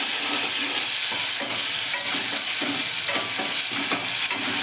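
Crushed onions sizzle loudly in a hot frying pan for sambar, with occasional stirring scrapes breaking through the steady crackle.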